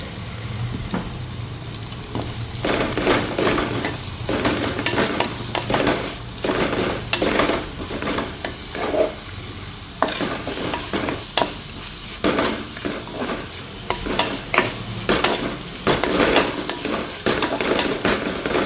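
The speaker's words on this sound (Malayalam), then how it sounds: "സവാളയും പച്ചമുളകൊക്കെ വഴന്ന് വന്നിട്ടുണ്ട്." Onions and green chillies sautéing in a pan for beef curry, a continuous close sizzle with frequent rhythmic stirring scrapes and occasional utensil clatter throughout.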